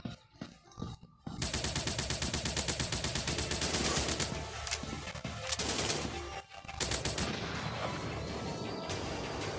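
Gunfire in the mobile shooter Commando War Army, sustained loud automatic fire and explosive blasts rattling continuously after a brief quiet opening, with short dips between bursts.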